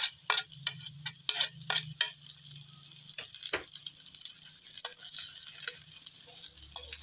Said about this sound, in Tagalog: At dahil mainit na yan, igigisa na natin yung ating bawang. Mix na rin yung ating sibuyas.